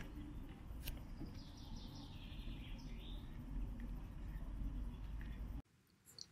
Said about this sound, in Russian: Распевают птицы с утра, вот так.